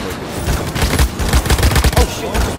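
Rapid gunfire in the shooter game Paladins, dense bursts of shots fired nonstop at close range, with voices talking over the top.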